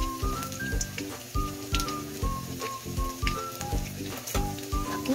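Garlic sizzling in a hot pan while sautéing for ginisang monggo with pork and dried dilis, a continuous crackling fry with stirring, close and fairly loud, with a little background music.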